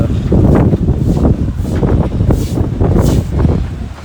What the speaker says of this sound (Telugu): ఎంత గాలి వస్తుందంటే ఇక్కడ మంచిని తోసేంత గాలి వస్తుంది ఇక్కడ